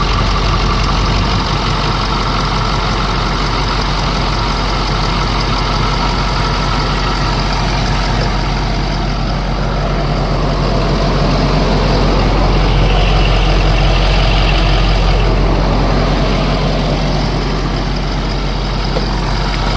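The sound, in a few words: Ford 6.7 Powerstroke diesel engine running after first start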